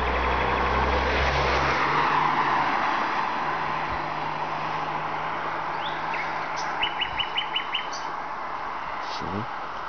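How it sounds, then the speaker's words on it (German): A car passes on a street in Dresden-Leuben, a broad loud rush of road noise that swells early and slowly fades, with nightingale chirps and trills carrying over it later. "Wenn nicht gerade ein Auto stört."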